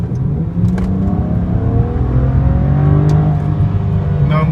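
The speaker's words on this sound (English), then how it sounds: "And I'll give it full throttle now." A BMW 335xi with suspected misfires and a failing xDrive transfer case is revved hard at full throttle, its engine note sweeping upward loudly and steadily, close by and uninterrupted.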